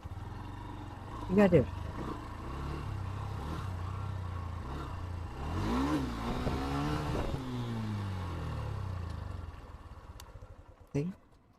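Motorcycle engine revving during wheelie and stoppie stunts, with a loud surge midway rising and falling over several seconds, under ongoing nearby talk.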